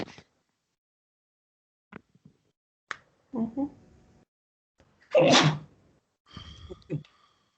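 A single sharp sneeze bursts out mid-clip, loud and close, amid scattered clicks and a few brief voices and noises in a quiet room.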